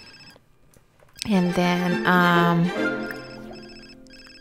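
A telephone rings in the video game The Sims 4, a loud, bright, sustained ringing burst that swells suddenly and then fades, with a voice speaking briefly at the start.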